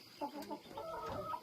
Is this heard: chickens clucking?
yes